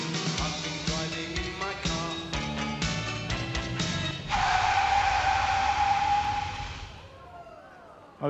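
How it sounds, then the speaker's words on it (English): A car in a staged road-collision demonstration brakes hard, with a sustained tire skid and screech rising over background music and talk, then the noise fades out without a crash. "we're going to look at what will happen in a road collision when our dogs are secured within the car."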